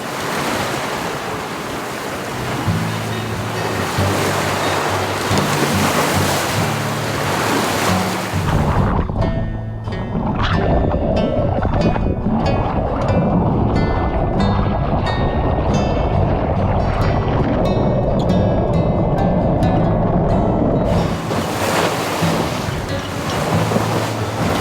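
A sailboat moves through ocean waves near a small sand-spit island in the Caribbean. Waves wash and splash steadily, with strong wind buffeting the microphone, all loud and close.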